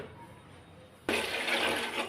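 Water being poured into raw rice in a pot while preparing bonam, a loud, continuous splashing fill that starts abruptly after a quiet moment and runs steadily to the end.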